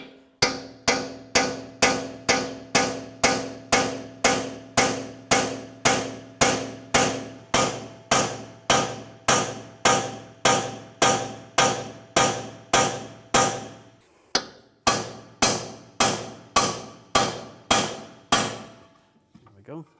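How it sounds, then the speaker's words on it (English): A punch is hammered to drive the steering knuckle down off the strut on a 2004-2010 BMW X3 during a front wheel hub bearing job, giving about thirty-five sharp, ringing metal blows at a steady quick rhythm, loud and close, with no talk. "Now I'm going to use a punch and push down the knuckle from the strut."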